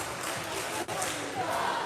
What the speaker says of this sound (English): Listen at that crowd over there.